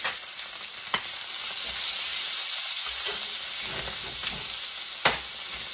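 Catfish pieces frying steadily in a pan with rosemary, a continuous close sizzle and crackle throughout, with a couple of sharper pops and spatters standing out.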